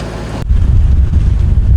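A motorboat engine cruises at steady revs, a loud low droning rumble buffeted by wind noise, with a sharp cut in the rushing hiss just before the engine drone swells.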